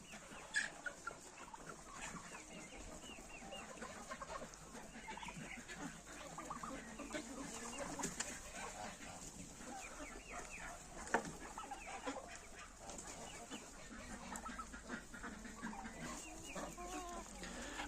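Chickens cluck and murmur continuously in a poultry yard, a dense, fairly quiet flock chorus with occasional louder calls standing out, steady throughout.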